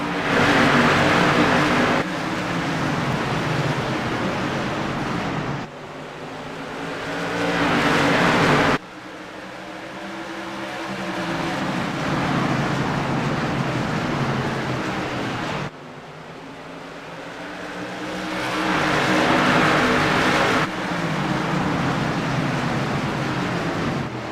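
Race car engines roaring in the iRacing video game at eStafford Speedway, a loud, continuous drone of several cars at high revs, swelling and fading as the pack sweeps by, with abrupt cuts between segments and no voices.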